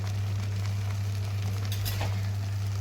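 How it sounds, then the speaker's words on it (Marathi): Split black gram dal in a pot on the stove gives a steady, close bubbling and sizzling over a constant low hum, with no voices. "एक थोडीशी उकळी आल्यानंतर 10 ते 20 सेकंद आपण याला अशी उकळी येऊन द्यायची"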